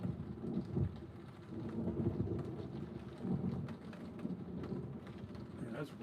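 Low thunder rolls on and on through a rainstorm, a fairly faint, continuous rumble with wind buffeting and patter of rain over the whole stretch.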